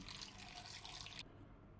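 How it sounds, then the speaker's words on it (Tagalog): Water pours into a cooking pot holding fish, onion leaves, chili, salt and pepper for a simple fish soup, a faint, steady splashing stream that cuts off abruptly partway through. "Lagyan natin ng tubig."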